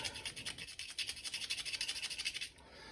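A whole nutmeg rubbed against a grater in quick, even strokes, a rhythmic series of close, soft rasps that stops abruptly near the end.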